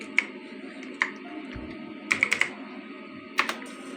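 Keys on a computer keyboard are tapped while LibreOffice Writer is being opened, with sparse separate clicks and a quick burst of several keystrokes, close and clear over a quiet background hum.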